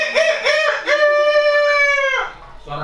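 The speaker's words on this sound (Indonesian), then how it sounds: "Pagi-pagi yang cerah, ketika ayam berkokok," A rooster crows a full cock-a-doodle-doo on a bright morning, a loud, close call with a long sustained final note, heard alone with no talk over it.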